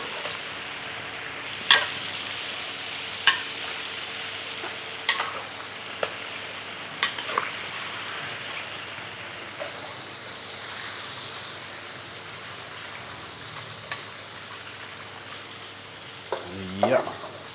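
Chicken wings crackle and sizzle in hot oil with a steady hiss, punctuated by sharp pops and the scrape of stirring, ending with a louder clatter as pieces are lifted out.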